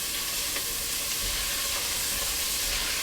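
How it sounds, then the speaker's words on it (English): Spinach artichoke dip with garlic, onions and seasonings sizzling and being stirred in a hot pan, a steady close frying hiss with faint scraping, no talking. "So we're going to stir this stuff around."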